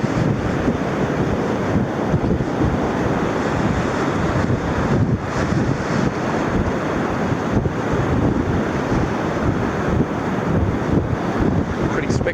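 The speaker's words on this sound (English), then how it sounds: "Swell coming in." Ocean swell rolling in at the Henty River mouth, with a continuous roar of surf and gusting wind buffeting the microphone throughout, loud and steady.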